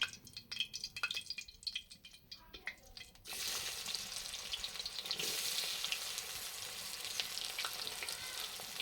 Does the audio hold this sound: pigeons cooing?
no